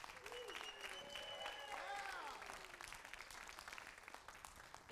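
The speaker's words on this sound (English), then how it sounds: "Keep that applause going, folks," Audience applause at a mayoral candidate forum, a soft, distant patter of clapping running throughout while a voice speaks over it.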